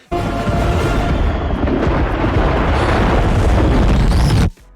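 A volcano erupts in a fantasy television battle scene: a loud, sustained roaring blast of rumble and crackle fills several seconds, then cuts off abruptly.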